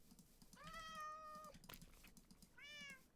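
A Minecraft cat meows twice, two drawn-out tonal mews separated by a pause, with faint keyboard clicks in the quiet background.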